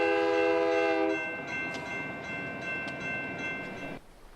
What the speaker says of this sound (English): Look for the train.